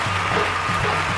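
Crowd applause rolls steadily through a London 2012 Olympic shooting event, a broad continuous patter at moderate level with no talk on top.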